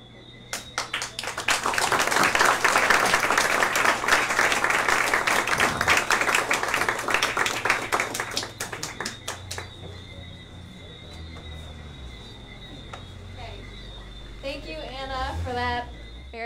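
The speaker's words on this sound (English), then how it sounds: "Give her another round of applause, ladies and gentlemen." An audience applauds after a talk on invasive seagrass, clapping building quickly to a strong peak, then thinning to scattered claps before a presenter's voice resumes.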